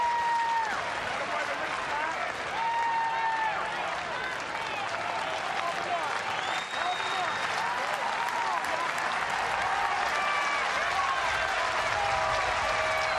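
A college baseball crowd at a South Dakota State versus Nebraska game cheers and applauds steadily for the whole stretch, a dense, sustained wash of stadium noise with a commentator's voice running over it.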